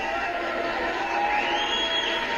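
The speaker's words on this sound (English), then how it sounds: "how about a round of massive applause for both warriors?" A boxing arena crowd at a women's bout cheers and whoops in a steady roar of many voices, with applause mixed in, loud and sustained throughout.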